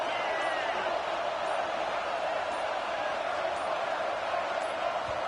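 A football stadium crowd roars steadily to inspire the defense, a dense, sustained wash of noise with no breaks, and a commentator talking faintly beneath it.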